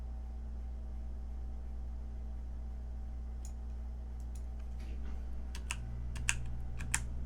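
A computer keyboard is typed on near the end, a short scattered run of crisp clicks over a steady electrical hum, with no talk.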